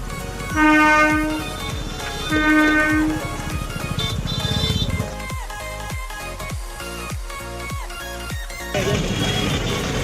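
A train rolls past a railway level crossing nearby, with two long horn blasts, then a rapid clattering of wheels over rail joints and a loud, sustained rumble of passing carriages.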